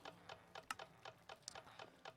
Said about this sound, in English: That ticking is going to drive someone insane as well.